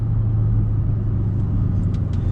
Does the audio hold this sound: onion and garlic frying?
no